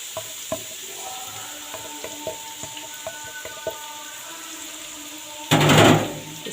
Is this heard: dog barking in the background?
no